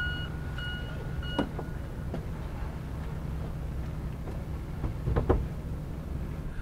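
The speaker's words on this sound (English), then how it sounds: "You can hear all the beep, beep, beep." Three faint, distant industrial beeps ring out early across Toronto harbor over a constant low rumble of machinery and water, with occasional clanks.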